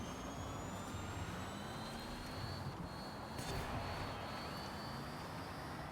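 A car engine in the Forza racing video game gives off a steady, jet-like roar with a faint high whine that rises slowly, constant and moderately loud with no talking.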